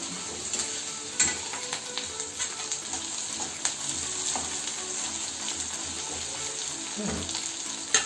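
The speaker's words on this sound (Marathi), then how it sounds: "हे आपण चांगलं आता भाजून घेऊया तेलामध्ये थोडेसे धने टाकायचे" Coriander seeds roast in hot oil in a pan with a constant close sizzle. Occasional clicks and scrapes of stirring break through the hiss.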